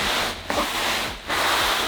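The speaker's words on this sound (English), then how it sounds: "Every time you move a muscle on this pad, you're going to hear it." Loud crinkly rustling of a Therm-a-Rest NeoAir Xtherm inflatable sleeping pad shifting under movement, in two bursts separated by brief quieter pauses, close up.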